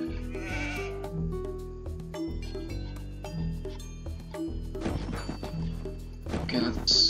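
Sheep bleat in Age of Empires II, a few short game-style bleats rising over a steady bed of layered in-game music and ambience, with a louder burst of effects near the end.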